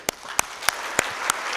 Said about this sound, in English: applaud the winners?